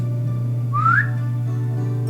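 A single brief, rising whistle from a person trying to whistle, heard once over a steady low electrical hum with no talking.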